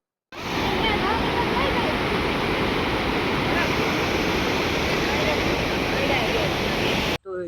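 Water from the forest pouring down a waterfall at Saputara, a loud, steady roar of rushing water that runs on without a break and cuts off abruptly near the end, with no talking.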